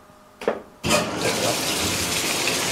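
A top-loading washing machine set for a medium load fills with hot water, a sudden loud gushing rush that starts after a brief click and then pours on steadily.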